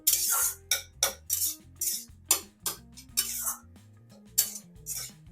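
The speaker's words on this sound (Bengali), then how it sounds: "আমি পুরটা এবার ঢেলে নিচ্ছি" A metal spoon scrapes and taps against a pan while cooked flour filling is emptied out, giving about a dozen ringing clinks in an irregular rhythm, close and clear.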